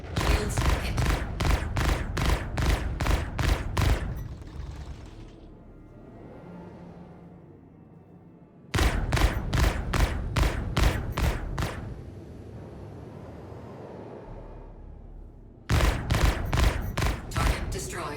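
The F8C Lightning ship's weapons fire in the game Star Citizen: three loud bursts of rapid, evenly spaced shots, separated by quieter gaps that carry faint cockpit voice announcements and a low hum.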